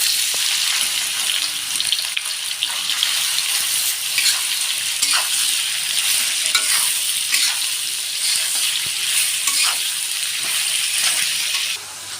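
Oil fries steadily in a wok as food for a vegetarian dish cooks, a dense continuous sizzle with faint scraping stirs, close and loud throughout with no talking.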